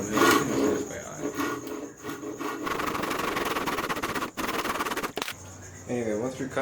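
Wood is cut by hand with a saw to build a shelf for breeding crickets, giving close, continuous rasping strokes. A voice briefly cuts in near the end.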